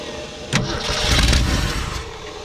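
A 1969 or 1971 Ford F100 pickup, abandoned for years, cranks over and catches after a sharp onset, its old engine building to a rough, loud roar that holds briefly and then eases back toward idle.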